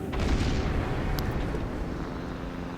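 The main guns of a tier 7 US Navy battleship, the Colorado, fire in World of Warships, a heavy booming blast rolling into a long, loud, low rumble that fades slowly, with no voices.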